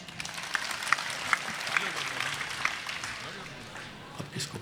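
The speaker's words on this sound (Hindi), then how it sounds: "एक बार जोरदार तालियां बजा के" An audience at a poetry recital claps steadily for several seconds, fairly soft and distant, while a voice talks over the applause.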